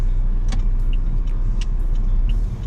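A Saab car from a Copart rebuild project drives with a steady low engine and road rumble heard from inside the cabin, along with a few light clicks and no talking.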